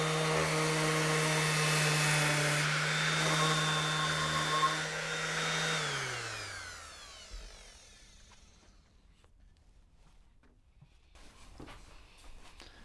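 Power sander working over a box made of pallet wood with oak accents, a loud steady whine that runs continuously, then spins down and stops about halfway, leaving quiet room noise with a few faint knocks.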